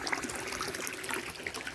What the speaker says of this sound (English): You can hear it bubbling there.